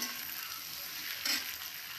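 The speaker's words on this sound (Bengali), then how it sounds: "আলুটা দিয়ে আলুটাকে তেলের সঙ্গে খুব ভালো করে মিশিয়ে নিলাম" Potato pieces stirred through hot oil in a pan with lightly fried onion for a cabbage curry, giving a steady, close, dense sizzle with a brief louder crackle midway, with no voices.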